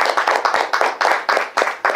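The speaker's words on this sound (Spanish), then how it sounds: "Un aplauso para ustedes." Hands clap in an audience at a film director's question-and-answer event, about eight distinct, evenly spaced claps in two seconds. The claps are close and crisp, with a small group keeping a steady rhythm.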